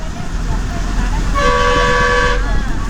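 A bus pulls up and sounds its horn in one steady, loud toot lasting about a second, over a constant rumble of road traffic and engine noise.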